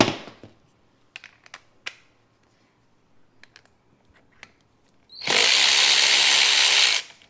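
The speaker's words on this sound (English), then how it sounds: "I am going to use a power tool for this because I don't have time for that." A few scattered clicks and taps, then a power tool whirs loudly and steadily for about two seconds on a Ducati 899 Panigale's chain before stopping abruptly.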